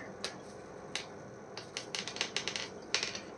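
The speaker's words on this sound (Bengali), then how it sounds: "একটা মেজর আরকানা কার্ড নেব।" A major arcana tarot card is drawn and handled, giving a string of sharp, close papery snaps and flicks, sparse at first and then bunched into a quick irregular burst, with no talking.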